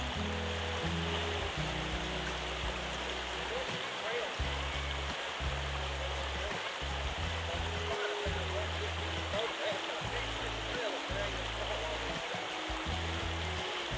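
A small forest stream and waterfall on the Storybook Trail at Cosby in Great Smoky Mountains National Park gives a constant, close rushing hiss of flowing water, while people talk intermittently over it.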